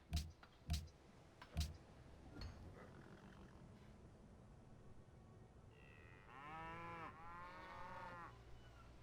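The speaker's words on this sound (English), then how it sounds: "There are a lot of cows. Lots of cows mooing." Cattle mooing in the Civilization V strategy game, a couple of drawn-out lowing calls near the end after a few sharp ticking clicks, fairly quiet.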